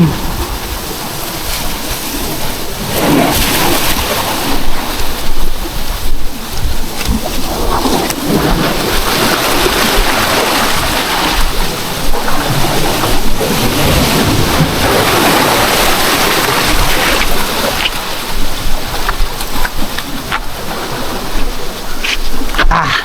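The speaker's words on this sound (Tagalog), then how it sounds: "Inaabot na ng alon." Waves surge around a fishing boat on open water, producing a constant loud roaring wash with repeated splashing bursts, near and unbroken throughout, with no voices.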